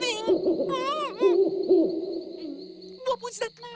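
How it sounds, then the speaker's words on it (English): An owl hoots in a pitch-black night setting, a series of clear, close, wavering calls repeating over several seconds with a few sharper notes near the end. "It's only an owl, Zeke."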